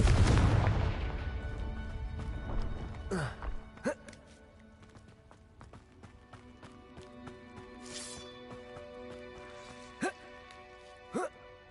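A heavy blast from a Confringo spell in Hogwarts Legacy opens with a loud boom that decays into ringing game ambience, followed by sharp magical crackles and pops at intervals.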